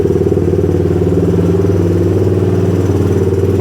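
A Honda 200X engine idling high after a hard start, a steady, loud, close rumble with an even pulsing beat and light mechanical clatter that never changes throughout.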